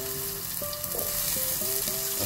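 Onion and ginger frying in oil for mussels, a steady loud sizzle close by with faint tonal whistles over it, no voices.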